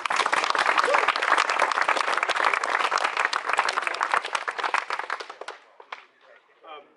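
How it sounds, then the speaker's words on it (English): A ceremony audience at a Dartmouth reunion rowing dedication breaks into dense, sustained applause that thins out and fades to a few scattered claps near the end. "Good round of applause."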